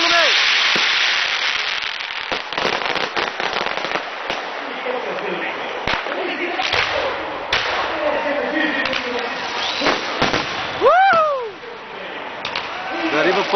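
Fireworks burst and crackle at the lighting of a huge bonfire, with sharp irregular pops and whistling rockets rising, heard up close alongside excited people talking and shouting.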